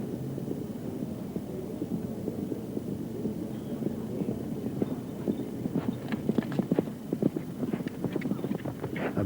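Horse hooves drumming over an eventing cross-country course in Christchurch, a fast irregular run of thuds growing louder and closer toward the end, with faint wind and distant background noise.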